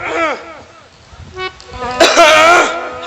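A man clears his throat in a deliberate, performed way during a Ramlila stage show, a rough harsh burst near the end following earlier vocal sounds, close and fairly loud over background murmur.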